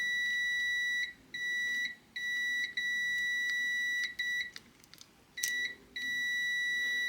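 A multimeter sounds continuity beeps while a Panasonic microwave door switch plunger is tested, a clear high steady tone that repeatedly cuts off and resumes in short and long stretches, close and alone without talk.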